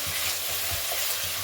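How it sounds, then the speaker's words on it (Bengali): Spice masala with kasuri methi stir-fried in oil for a cauliflower and paneer curry, a steady close sizzle with soft scraping stirs throughout. "দিয়ে ভালো করে মশলাটাকে কষিয়ে নেব।"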